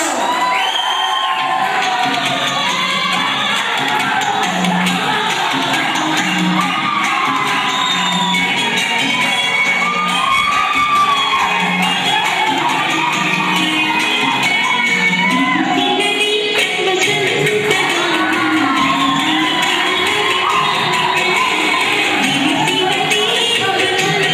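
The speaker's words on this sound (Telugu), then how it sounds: "చప్పట్లు" A large crowd at a college farewell event cheers, whoops and shouts continuously with clapping mixed in, loud and close, a dense roar of many voices lasting throughout.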